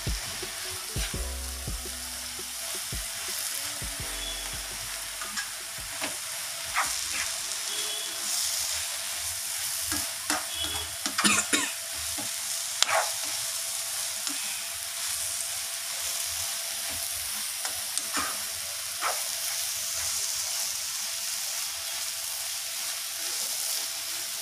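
Maramaala upma mixture with turmeric frying and being stirred in a pan, a continuous close sizzle with irregular spatula scrapes and clinks, a few louder knocks in the middle, and nobody speaking.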